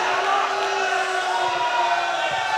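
An audience at a political debate on vernacular education shouts and calls out in a brief, loud crowd burst with overlapping voices.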